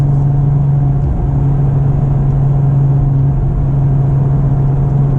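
A 2009 Porsche 997 Turbo Convertible cruising on a highway, with a steady, loud engine drone and continuous road and tire noise filling the cabin, unbroken and even throughout.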